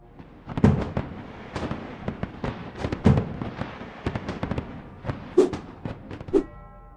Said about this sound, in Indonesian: di Menara Space Needle Seattle, Washington, mengadakan pesta kembang api virtual yang gak kalah menarik.